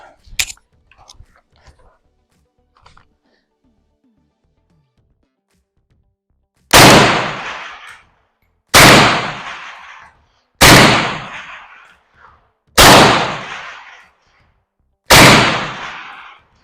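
Rifle shots fired standing at a 300 yard range while testing Primary Arms 3x and 1x ACSS microprism scopes: five loud, sharp shots spaced about two seconds apart, each with a decaying echo, after faint handling sounds and brief muffled talk.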